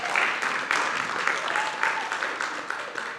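An audience claps at a red carpet gala, with dense, steady applause that fades slightly toward the end.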